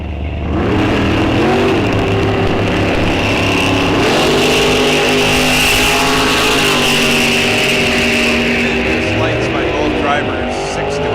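Drag racing cars, including one on a throttle stop, roaring down a bracket racing strip at Rock Falls Raceway, loud engines revving and shifting across the clip while an announcer talks over them.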